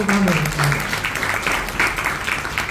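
Applause from the audience at a roundtable panel discussion, dense clapping that runs throughout, with a voice briefly speaking over the start.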